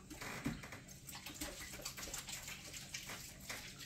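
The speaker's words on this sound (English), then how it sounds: "Gotta wash my hands" Tap water running steadily over hands at a kitchen sink, a continuous close splashing wash with small irregular spatters throughout.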